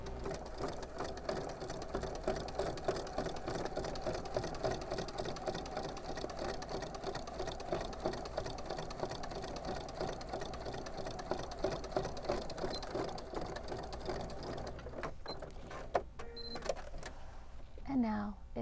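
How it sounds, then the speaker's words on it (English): A sewing machine stitching close to the edge of a dog bone Christmas stocking, running in a steady rapid chatter for about fifteen seconds before stopping, with a person talking nearby. "we're just going to put it right underneath the machine and stitch close to the edge"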